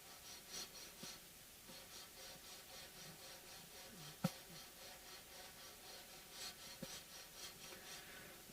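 Coarse-grit sandpaper rubbing over the wooden body of a D'Aquisto guitar, a quiet steady rasping in repeated back-and-forth strokes with one sharp knock partway through.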